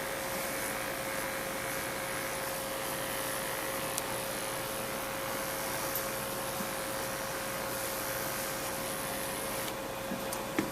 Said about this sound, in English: we're going to shave so that it makes the jugular vein visible